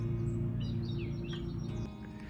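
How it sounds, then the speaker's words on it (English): Several birds chirp and tweet in short high calls scattered over a steady low background hum outdoors near a lake trail, with no one talking. "These jerk birds. Yeah, they better go away."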